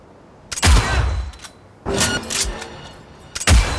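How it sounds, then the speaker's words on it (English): Gunfire in Cyberpunk 2077, three separate loud, close bursts of automatic fire with deep booming impacts and short gaps between them. "Opening fire!"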